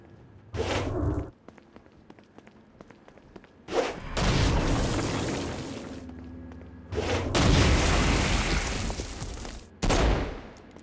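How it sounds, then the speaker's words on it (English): Stone Blast power explosions in the video game Saints Row: Gat out of Hell, several loud booming blasts with crackling, gunfire-like bursts, separated by quieter pauses. "Stone Blast is especially useful on flying demons like this."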